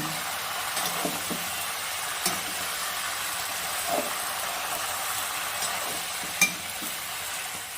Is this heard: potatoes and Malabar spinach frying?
yes